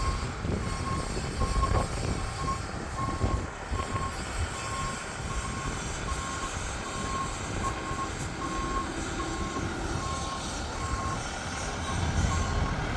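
A Montreal fire department ladder truck, Ladder 457, backs into Fire Station 57 during a winter snowstorm, its reversing alarm beeping in a steady repeating pattern over a constant low engine rumble and wind.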